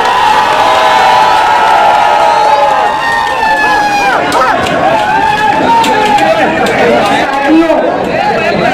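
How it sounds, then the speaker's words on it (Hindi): A large crowd at a public speech cheers and shouts loudly and continuously, with whoops and chatter mixed in; a voice is heard over the crowd noise. "भरपूर तालियां बजाएं"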